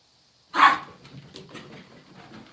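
A dog having the zooms lets out one sharp, loud bark, then keeps up softer yips, whimpers and panting as she races around close by, with no one speaking.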